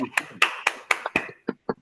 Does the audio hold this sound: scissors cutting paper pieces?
no